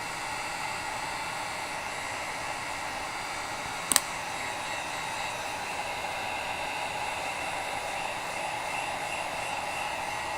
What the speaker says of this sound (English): Let's dry this off and give it a second coat so it's a nice deep red.